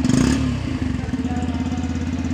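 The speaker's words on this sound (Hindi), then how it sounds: "और यहां से आप इसके एग्जॉस्ट के साउंड को भी सुन सकते हैं।" Yamaha FZ-S V3 DLX motorcycle exhaust idling nearby, a steady low throbbing pulse after a brief louder rev at the start, running alone without speech.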